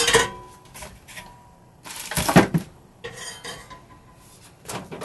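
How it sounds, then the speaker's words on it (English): A big metal cooking pan is handled on a stove in an RV kitchen while peppermint rice crispy treats are being made, giving close, scattered clanks and scraping clatters with short quiet pauses between them. "And so I like to use this big pan because it holds the entire batch."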